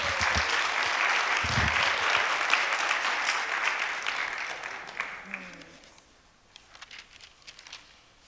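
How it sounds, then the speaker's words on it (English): Audience applauding teens at a youth event: sustained loud clapping that swells, then thins out and fades into scattered claps near the end. "One more round of applause for these brave teens sharing their truth."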